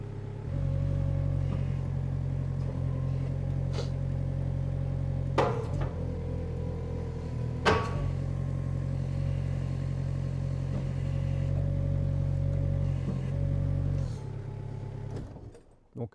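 An excavator's diesel engine idles steadily with a low, droning hum during an attachment change, a couple of sharp metallic clanks cutting in midway before the engine winds down and stops near the end.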